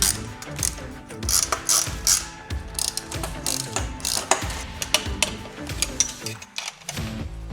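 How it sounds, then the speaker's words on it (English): Repeated mechanical ratcheting clicks in steady bursts, close and fairly loud, from a hand ratchet tightening a screw and bolt while installing a Vantech H2.1 cargo rack on a RAM ProMaster City van; no one speaks. "Put a screw through here, tighten this up, get it nice and tight before tightening up that bolt."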